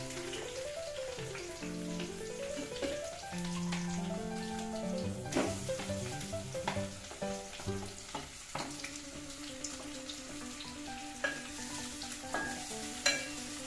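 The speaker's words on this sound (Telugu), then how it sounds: "కొంచెం పుదీనా, కొంచెం కొత్తిమీర, వంకాయలు వేద్దాం" Stuffed eggplants with mint and coriander fry in a pan for a hotel-style gutti vankaya curry, a quiet crackling sizzle with occasional stirring taps and a melodic music bed over it.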